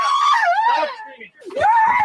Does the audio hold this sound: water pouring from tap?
no